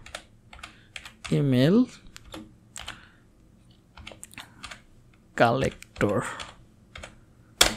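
Computer keyboard typing in a software tutorial, a burst of clicky keystrokes entering a short search phrase, close and moderately loud, with someone speaking Bengali over and between the taps.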